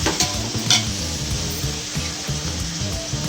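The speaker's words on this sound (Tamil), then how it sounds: "வெங்காயம் நல்லா ப்ரௌன் கலர் சேஞ்ச் ஆகிற வரைக்கும் நல்லா வதங்கணும்." Onions and a bunch of mint sauté in hot oil in a pan for chicken dum biryani, a loud continuous sizzle broken by stirring scrapes, close up.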